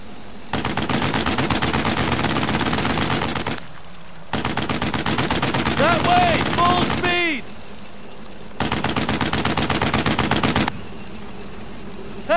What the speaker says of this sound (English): Target that MG-42!